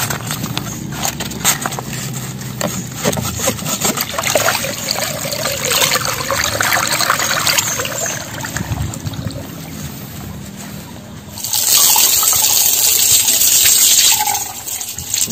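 Water gushes from a pond drain pipe as it is pulled out, a steady loud rush and trickle that carries on throughout and swells stronger near the end.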